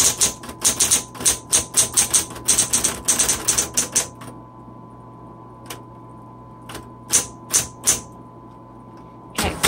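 A 1970s Smith Corona Electra 210 electric typewriter types up close: a rapid clatter of keystrokes for about four seconds, then a few scattered single strikes over a steady motor hum.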